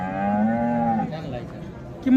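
A Holstein Friesian cow moos loudly at a cattle market in Sangola, one long drawn-out bellow lasting about a second, followed by quieter market noise and the start of another low call.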